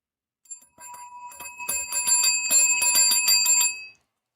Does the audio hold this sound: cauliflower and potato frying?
no